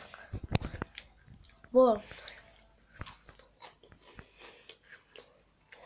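A cookie is bitten with a sharp crunch, then chewed in soft, close-up crunches and squishes, with a brief exclamation from a voice and quiet mouth noises.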